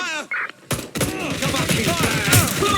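Gunfire in Watch Dogs: Legion, with sharp shots bursting out after a short quiet gap, then a dense, loud stretch of firing and clatter running under radio-style voices calling out commands.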